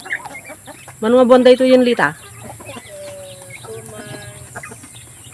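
On a backyard poultry farm with a rooster, two hens and their chicks, a chicken lets out one loud, drawn-out squawk, followed by softer clucks nearby while someone speaks.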